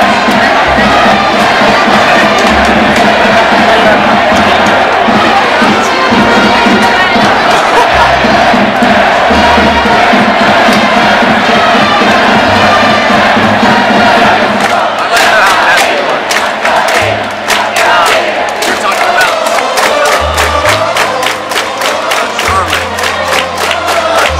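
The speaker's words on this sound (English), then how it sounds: "each player has like a specific chant that the crowd chants their name to." At a baseball game in Japan, a large crowd chants a player's name together in a loud, rhythmic, continuous roar of voices and cheering, with steady beats underneath.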